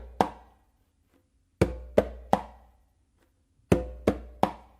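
A conga plays the opening of a tumbao pattern, a bass tone and close slaps from the hands, heard as sharp, dry, separate hits in two short groups of three and four with silent gaps between them.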